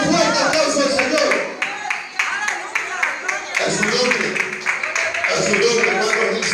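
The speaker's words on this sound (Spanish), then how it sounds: "Para dar un fuerte aplauso al Señor." A church congregation claps loudly and continuously, dense applause mixed with voices and music throughout.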